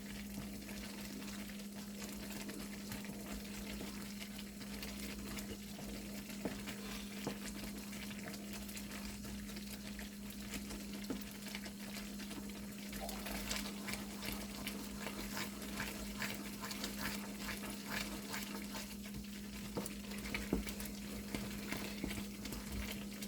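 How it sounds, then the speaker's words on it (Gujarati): Milk powder mava being stirred continuously in a hot pan, a steady low sizzle and bubbling frying sound with soft scraping strokes running throughout, close and even, no voices. "હલાવતા જ રહેવું પડે આપણને."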